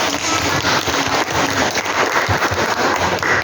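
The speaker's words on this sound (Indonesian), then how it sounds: "Berikan tepuk tangan untuk setiap kelompok" Classroom applause for student groups presenting digital scrapbook projects, a dense, steady wash of many hands clapping for several seconds with no talk over it.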